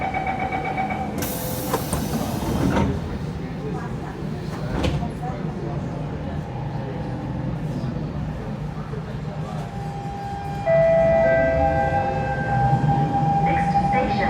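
A Siemens C651 SMRT train on the Changi Airport Branch Line pulls away, heard from inside the carriage with a steady rumble, a door-closing chime early on and rising motor whine as it accelerates, while an onboard announcement voice speaks.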